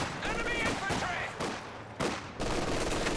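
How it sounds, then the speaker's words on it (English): Machine gun and rifle fire in a Company of Heroes 2 battle, several sharp bursts and cracks in quick succession, with a commentator talking over the gunfire. "Dr. Fiasco bringing the machine gun and one grenadier across"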